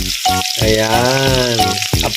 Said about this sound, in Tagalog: Prito lang muna natin ang patatas para hindi madurog-durog